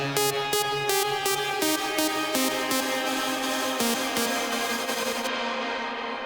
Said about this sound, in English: is we're using a shimmer reverb.